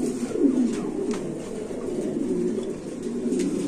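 Pigeons coo softly and continuously at close range, with overlapping low throaty calls from several birds in a loft and faint background rustling.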